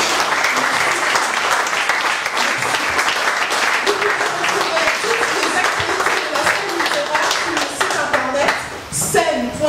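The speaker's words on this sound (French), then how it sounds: "S'il vous plaît, applaudissements pour vous." Sustained applause from the audience fills a literary prize ceremony for the 2019 Prix des Afriques, a dense wash of many clapping hands that stays loud and steady throughout, with a few louder claps near the end.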